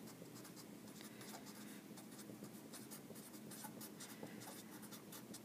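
Pen or marker writing out a math equation for a rational root theorem lesson, producing faint continuous scratchy strokes with soft taps, quiet and close.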